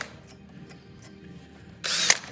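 A drill bit boring into the wooden part of an axe head, first as faint scattered scrapes and clicks, then a loud close burst of whirring drill noise near the end.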